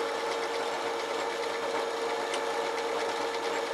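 A 220V electric motor spins a drill chuck fitted with a 13 mm bit, giving a steady, even whirring hum at low speed that runs unchanged throughout, close and with no talk.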